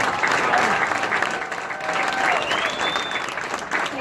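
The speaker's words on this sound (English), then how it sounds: "A big round of applause, ladies and gentlemen" Audience at a Wayne Newton show at Bally's Las Vegas breaks into sustained applause, a thick, even wash of clapping from a large crowd with faint whistles and voices mixed in.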